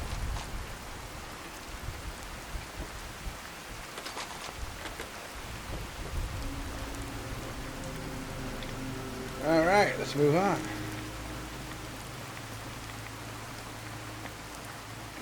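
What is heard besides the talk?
rain and thunder in the video game Fallout 4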